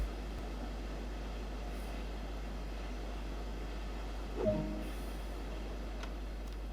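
Quiet interior of a train cab in the game Train Sim World 2: a low, constant rumble and faint hiss, with a single soft clunk near the middle and no voices.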